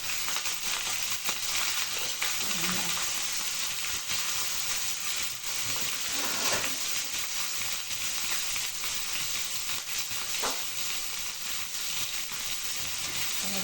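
Dried fish and curry leaves frying in a pan, a steady close sizzle with a few soft stirring scrapes, no voices.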